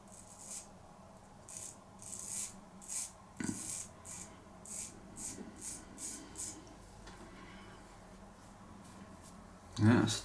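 A C V Heljestrand straight razor cuts through four days of stubble in short, rhythmic raspy strokes, soft and close, with a louder scrape near the end.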